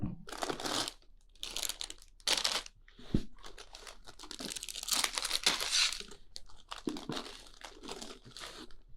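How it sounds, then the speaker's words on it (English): Plastic packaging from a LEGO Millennium Falcon set crinkles in bursts, close and fairly loud, with short pauses between handlings and a sharp crunch or two partway through. "Crinkling, not so much for me personally, but they're gonna be here because plastic bags and whatnot."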